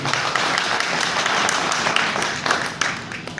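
A crowd at a farewell speech applauding, a dense, sustained wash of many hands clapping, loud and steady throughout with no pauses.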